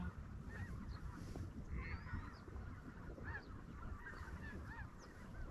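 A flock of specklebelly geese (greater white-fronted geese) calls steadily over a flooded rice field, their overlapping high yelping notes scattered and fairly distant above a continuous wash of background noise.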